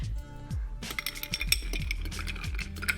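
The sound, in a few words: ice cubes added to a cocktail glass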